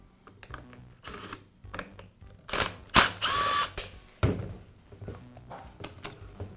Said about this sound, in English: I'll begin by removing the rear housing from the grinder.